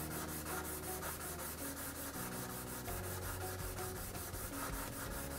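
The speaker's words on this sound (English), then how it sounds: "With a little abrasive sponge," An abrasive sponge rubs back and forth over the hard-coated surface of a Line8 sliding-rail power strip, giving a steady, close, continuous scrubbing rasp with regular strokes and no voices.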